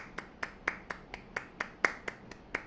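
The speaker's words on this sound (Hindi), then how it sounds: "और ज़ोरदार ताली बजाते हैं" Loud hand claps from a group at the close of a guided meditation session, a steady run of about ten sharp claps in regular rhythm with no talking.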